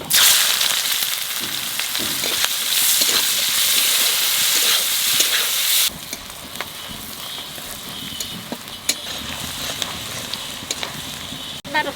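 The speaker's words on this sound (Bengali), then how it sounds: "তেলের উপর দিয়ে দেবো কটা জিরে আর তেজপাতা" Cumin seeds and bay leaves sizzle in hot oil, a bright, dense frying hiss that is loud at first, then drops to a quieter crackle with scattered pops and stirring clicks, no voices.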